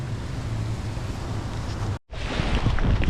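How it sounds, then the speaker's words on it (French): Strong wind blows across an open gravel-pit lake at a lakeside fishing camp, a steady full roar buffeting the microphone, broken by one brief dropout before resuming just as hard. "le vent il souffle toujours autant"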